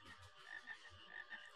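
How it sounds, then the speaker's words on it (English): Frogs in Final Fantasy IX croak in faint, low, repeated bursts against a soft ambient backdrop, with a few short croaks spaced irregularly. "Aha! Frogs!"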